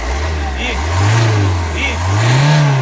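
A used car's engine is revved hard at full throttle up close, its pitch climbing and falling in two loud surges, with a voice present.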